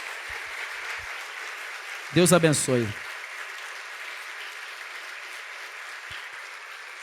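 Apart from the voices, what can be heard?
church congregation applauding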